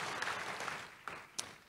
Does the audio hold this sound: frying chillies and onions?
no